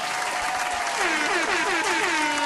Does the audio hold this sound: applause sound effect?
yes